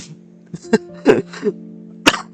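A person holding back a cough lets out a few short, muffled coughs and throat-clearing bursts in an irregular rhythm, close and fairly loud, broken up by a man's brief speech.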